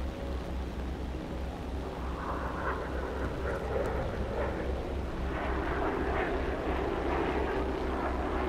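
Propeller aircraft engines drone steadily overhead in a War Thunder battle, a loud continuous rumble that swells slightly toward the end, with no speech.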